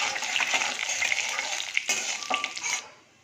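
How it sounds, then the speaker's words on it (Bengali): Cumin seeds, dried chillies and a pinch of asafoetida tempering in hot oil, a steady close sizzle with a few scraping stirs, fading out at the end. "একটু জিরে ফোড়ন দিয়ে দিচ্ছি, শুকনো লঙ্কা ফোড়ন দিচ্ছি, দিয়ে দেবো একটু 1 পিঞ্চ মতো হিং ফোড়ন"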